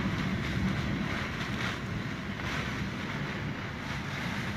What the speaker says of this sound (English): how the water is just battering because you got the wind and the water together